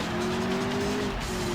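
Titan car in Need for Speed: Road Challenge on PlayStation spinning its wheels, a continuous engine whine with tire squeal running through a short burst, loud and close.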